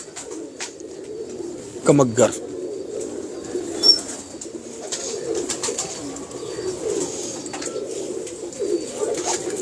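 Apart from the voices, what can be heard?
pigeons cooing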